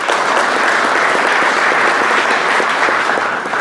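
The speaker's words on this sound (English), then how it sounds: "A round of applause, please." Sustained applause from a crowd, a dense steady patter of clapping hands that holds at a loud, even level throughout.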